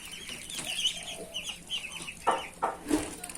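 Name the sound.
muscovy duck ducklings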